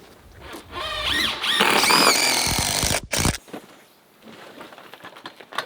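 A power drill drives structural screws into a ledger board on a house, whining loudly in bursts with a squealing rise as each screw seats, then quieter handling and shuffling.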